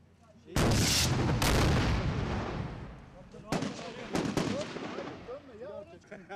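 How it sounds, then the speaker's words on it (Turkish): Rocket firing and explosions during Turkish SAT commando training with live ammunition: two loud broadband blasts close together, a third sharp boom a few seconds later, then rumbling decay with voices talking underneath. "Değil, roket atıyor."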